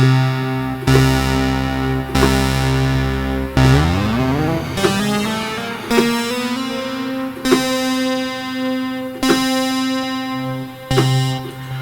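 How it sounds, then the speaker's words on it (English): An Arturia PolyBrute synthesizer plays a series of loud, buzzy notes with oscillator 2 synced to oscillator 1, each struck separately, one gliding pitch sweep, and harmonics shifting sharply from note to note. "And you can also sync oscillator 2 to 1."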